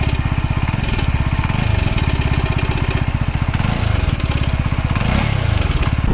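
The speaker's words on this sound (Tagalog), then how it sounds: "tuwing cold start, tuwing start mo ng motor mo, maingay. Meron siyang tunog na parang ganito." A CFMoto 300SR motorcycle idles after a cold start with a faulty cam chain tensioner, a loud, close, rapid mechanical ticking and rattling chatter riding over the steady engine drone without pause.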